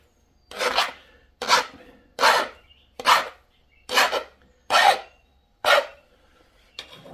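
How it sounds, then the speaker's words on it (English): A hand file drawn along a blade edge, seven even rasping strokes in a steady rhythm, each a close, bright scrape followed by a short pause, with no talking. "I'm going to sharpen this, make another pass down that side."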